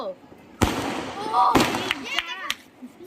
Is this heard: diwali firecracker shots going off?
yes